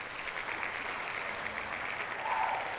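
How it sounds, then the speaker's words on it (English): A short cheering sound effect played during a podcast: a steady, bright wash of crowd cheers and clapping that holds evenly for a few seconds, with no talk over it. "Hang on, where's my little cheer?"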